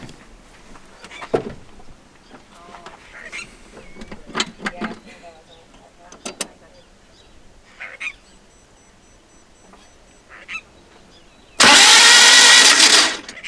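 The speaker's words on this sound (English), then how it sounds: "we're just about to crank it over again just to see if anything's moving in the top of the engine here" A car engine cranks over under load, a suspected snapped timing belt, loud and steady for about two seconds near the end after quieter stretches of people talking and bush ambience.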